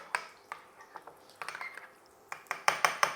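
A spoon scraping and clinking against a bowl while stirring tinned salmon fishcake mixture, with scattered short clicks and taps that cluster into louder, quicker strikes toward the end, close by with no talking.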